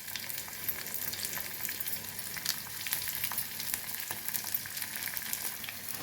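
Tempering of urad dal, chana dal, cumin, green chillies, curry leaves and asafoetida sizzling in hot oil for mango pulihora, a steady dense crackle with sharp pops throughout.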